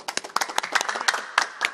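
A short burst of enthusiastic clapping from a group, close and lively with uneven rhythm, given as applause for the nine members of an electoral council.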